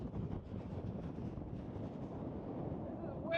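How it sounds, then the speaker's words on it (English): Strong wind on the Oregon Trail buffeting the microphone in a loud, continuous rumbling roar, with a voice briefly audible at the very end. "This is the strongest wind I've ever been in."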